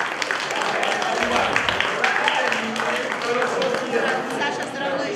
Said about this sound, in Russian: И мы хотим, чтобы вы поприветствовали это самое лучшее аплодисментами